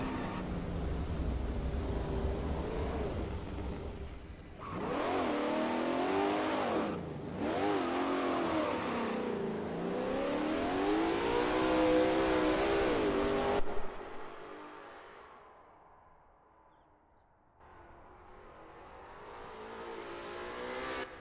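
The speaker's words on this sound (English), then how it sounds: "Adam is expertly commanding that car through Millstone Straight." A Lola T70 MkII Spyder race car drives at Bridgehampton in a racing game, its engine revving up and down through gear changes, loud and close, then dropping away to a quieter drone.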